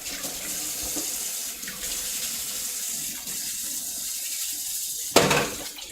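Water runs steadily from a kitchen sink tap during washing up, a constant close hiss throughout, ending in a louder splashing burst near the end.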